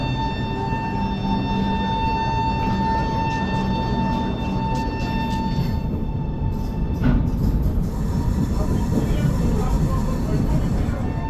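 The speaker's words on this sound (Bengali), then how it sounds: "1:33-এ কিন্তু এখানে ট্রেন চলে এলো" The Howrah–Gwalior Chambal Express passenger train runs close by with a steady rolling rumble and a sustained tonal hum, with a few brief clanks near the end.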